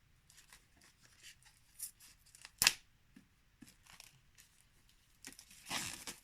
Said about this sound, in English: So now let us open up the plastic.